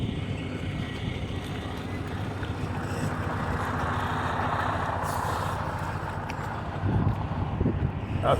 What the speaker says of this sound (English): That's a truck coming with me though.